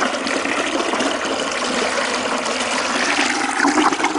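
Water gushes steadily into a white 5-gallon bucket from a whole-house water softener plant, a continuous splashing rush that grows slightly fuller toward the end.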